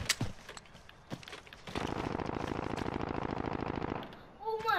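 Rapid automatic gunfire in the Warzone battle royale game, a sustained close burst of dense rhythmic shots after a few scattered single cracks, with talk mixed in.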